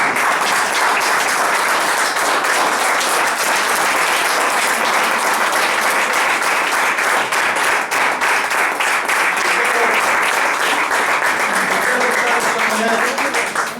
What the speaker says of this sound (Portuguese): Vamos pôr de pé e dar a Deus uma salva de palmas.